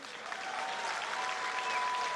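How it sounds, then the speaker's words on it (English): A boxing crowd applauds a British featherweight champion after a stoppage win, steady dense clapping filling the hall throughout. "a massive round of applause for a magnificent fighter"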